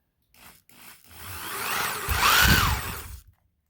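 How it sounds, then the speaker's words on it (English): A power drill bores a hole into a barn floor, starting with short bursts before a sustained whirring grind that rises in pitch and strain, then cuts off abruptly; nearby and moderately loud, no talking. "I'm going to drill another hole right there"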